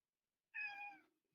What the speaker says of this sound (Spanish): Perdonen, mi gato está acá loco.